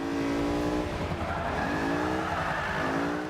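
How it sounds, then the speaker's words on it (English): A Mercedes SLS AMG drifting in the racing game Forza 5: a loud rear-wheel-drive engine note rises and falls while the tyres squeal and skid continuously through the slide. "See, basically any car can drift as long as it's rear wheel drive"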